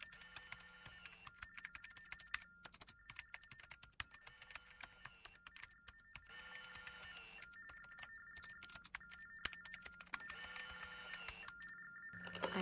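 Keys on a computer keyboard clack in quick irregular bursts with short pauses, close and fairly quiet, with a faint tonal hum in the background.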